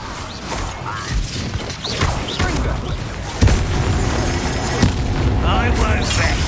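Explosive Confringo spell blasts in the wizarding game Hogwarts Legacy, loud booms and crashing impacts, one sharp hit midway, under busy game sounds and a voice speaking.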